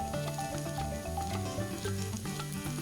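Cauliflower drops into a pan of finely chopped onion and sizzles steadily and loudly, with some stirring across the whole stretch and no voices.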